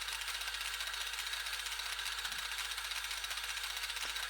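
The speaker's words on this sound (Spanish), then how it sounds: "Y también lubricamos a velocidad más lenta que nos permite este torno, y una velocidad de avance sí un poquito más lenta también que la anterior." Metal lathe turning slowly at reduced feed while machining a support plate, a steady mechanical whir and hiss with faint rhythmic ticking, even and moderately quiet throughout with no voices.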